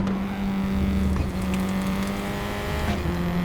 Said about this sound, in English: A bit of understeer, as you can hear the tires screech